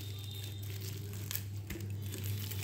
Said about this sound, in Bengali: সামান্য জল দিয়ে একটু চটকে নেব, তাহলে রসটা ভালো বেরোবে।